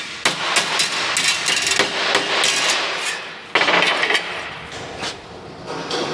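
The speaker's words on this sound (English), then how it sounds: "So we need to get our big hammer and straightening." Rapid, heavy blows from a big hammer clang against a bent metal part from an exploded combine harvester engine, straightening it in uneven bursts, loud and close, with brief pauses between flurries.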